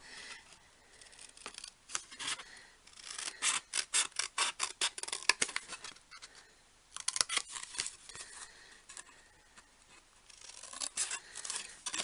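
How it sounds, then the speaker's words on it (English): Card being cut with scissors into a square: repeated crisp snipping strokes in bursts, close and fairly quiet, with a brief pause midway and no talking. "I'm cutting out the bottom left one on all of mine"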